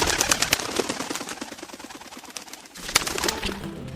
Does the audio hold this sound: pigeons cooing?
yes